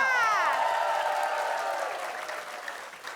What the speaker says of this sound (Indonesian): Kita kasih tepuk tangan untuk Padat Karya